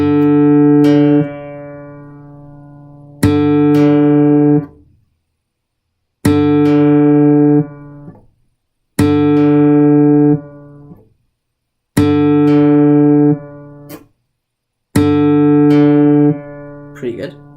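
Guitar strings plucked one at a time while tuning: six separate ringing notes of the same pitch, each sustained and fading for about two seconds before the next, close and loud with no talking.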